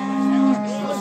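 A young bull calf lows in one long, loud moo with a strong steady tone, then a second wavering call trails off at a livestock market in Alay.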